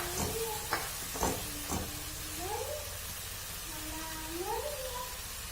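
Tomatoes sizzle steadily in a pan with turmeric and salt for an Assamese tomato chutney, a soft continuous frying hiss with occasional stirring taps, overlaid by faint high tonal cries.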